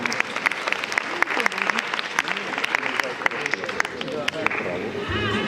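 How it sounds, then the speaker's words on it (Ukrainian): Audience applause for a performer at a university department's 40th-anniversary concert, a dense steady wash of clapping from a crowd with a few sharper claps standing out, while a voice talks over it. "Привітайте його гучними оплесками."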